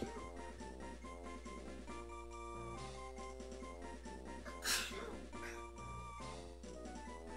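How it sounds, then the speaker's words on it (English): One abrupt sneeze, a sharp close burst midway through, heard over steady background music. "I gotta sneeze."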